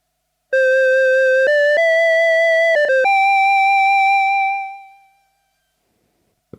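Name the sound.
OP-1 synthesizer imitating Casio VL-1 tone with tremolo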